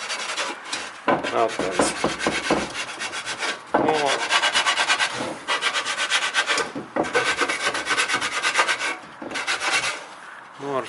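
A cleaner magnet from a Toyota Camry automatic transmission is scratched in steady, repeated rasping strokes, close and continuous, with a few brief spoken words.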